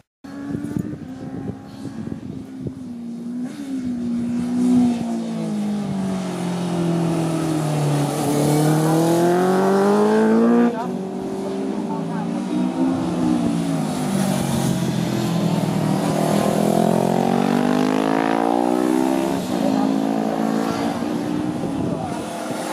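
A Honda BigWing motorcycle accelerates on a racing track. Its engine note climbs, dips and climbs again through repeated revving sweeps, loud and close for the whole run.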